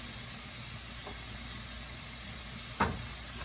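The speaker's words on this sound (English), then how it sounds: "adding a little bit more onion" Onion sizzling in a pan for creamy chicken soup, a steady close frying hiss throughout, with a soft clink near the start and a sharper knock near the end.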